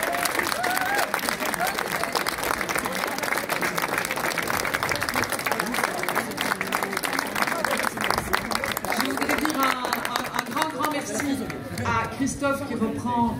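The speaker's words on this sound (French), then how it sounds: "merci de les applaudir chaleureusement" Warm applause from a crowd at a public event in Brussels, a sustained dense clapping with chatter and voices mixed in throughout.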